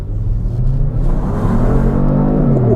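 A 2021 Kia Stinger GT1 sport sedan accelerates at full throttle from a stop, its engine roaring loud and close with a steadily rising pitch, no talking over it.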